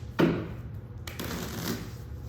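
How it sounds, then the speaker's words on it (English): Playing cards are shuffled by hand at a Catch the Ace draw setup, giving brief riffling bursts over a low room hum with no talking. "And you can continue to shuffle."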